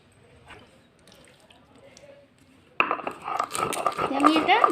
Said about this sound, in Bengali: এবার আমি শিলনোড়াতে কিছুটা পোস্ত বেটে নেব।